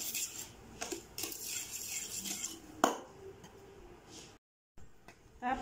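Banana cake batter being mixed in a bowl with a utensil, giving soft scraping and clinking strokes close by, with a brief pause near the end.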